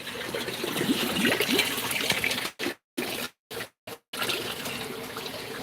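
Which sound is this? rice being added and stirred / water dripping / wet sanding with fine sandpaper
water dripping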